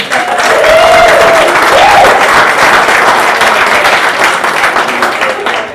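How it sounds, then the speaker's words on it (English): A crowd at a Donald Trump rally in Keene, New Hampshire applauds loudly and steadily, a dense wash of clapping with a few whoops rising above it, fading slightly toward the end. "Let's give them a round of applause."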